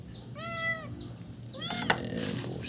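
A house cat meows several times in quick succession, clear and close, with a short knock partway through and faint background hiss.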